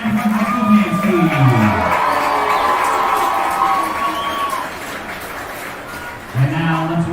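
High school football crowd cheering and clapping for the Sandpoint dance team, a broad sustained roar of many voices with a few shouts on top, while an announcer speaks over it at the start and end.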